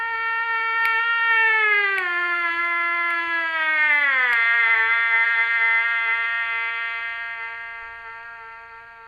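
A trombone mouthpiece alone buzzes a steady octave exercise in long half notes, a bright nasal tone stepping down in pitch across several sustained notes with a gentle fade at the end, heard clearly with no talking.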